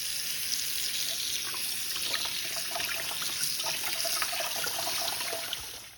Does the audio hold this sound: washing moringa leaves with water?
yes